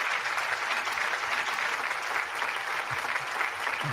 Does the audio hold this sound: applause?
yes